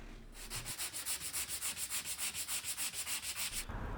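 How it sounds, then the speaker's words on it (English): Rhythmic back-and-forth sandpaper strokes rasp against a coarse layer of body filler on a car, around twenty quick even passes, close and fairly loud. "we're going to sand off the coarse layer on top of the filler"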